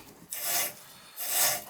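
A half-inch fitting brush scrubs inside the cylinder passage of a leaking tub shower valve, giving two raspy, close strokes with a short pause between them and no talking.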